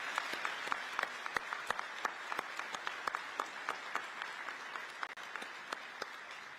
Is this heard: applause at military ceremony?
yes